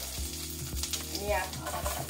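Green chilli, onion and carrot sauté in a hot pan, a steady close sizzle of frying with periodic stirring scrapes, no voices.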